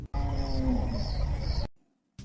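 A voice imitates a hyena with a long, loud, low growling roar that cuts off abruptly into silence, followed by a brief burst of noise.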